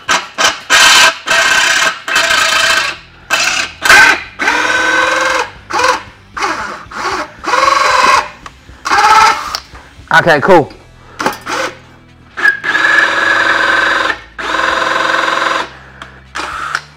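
A power drill bores a hole with a hot drill bit in a series of short, loud, close motor bursts separated by pauses, and a person speaks briefly between them.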